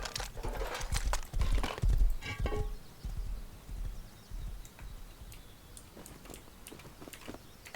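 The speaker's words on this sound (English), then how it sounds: "Someone's coming in on a horse." Horse hooves in the video game Rust clip-clop in an uneven run of thuds and clicks, loudest in the first few seconds and then fading to faint, sparse steps over a quiet background.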